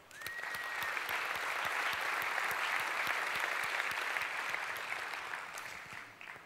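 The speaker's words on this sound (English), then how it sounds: "So let's give them a round of applause." Steady audience applause at a technology conference keynote honoring its sponsors, a sustained wash of many hands clapping from a large hall, holding evenly for several seconds before tapering off.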